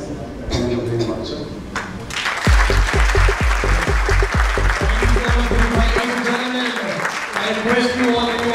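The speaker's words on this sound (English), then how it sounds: "give a huge round of applause" A crowd claps at a GJEPC felicitation ceremony, with a few voices speaking before the applause swells into steady, dense clapping. A heavy rhythmic thumping runs beneath it, then the clapping fades out.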